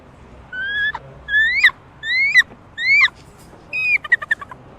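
A person imitates a bald eagle call, giving five rising, whistled shrieks with a chittering trill at the end. The calls come close and fairly loud over a quiet background.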